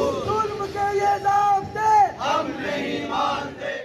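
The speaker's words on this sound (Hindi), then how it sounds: "मुजाहिरीन ने असातिज़ा के खिलाफ जालिमाना पॉलिसी बनाने पर महकमा तालीम को शदीद तनकीद का निशाना बनाया और भरपूर नारेबाजी की" Protesting teachers chant slogans together in a loud, continuous crowd. Voices rise and fall in rhythmic shouted phrases against a dense background of hubbub.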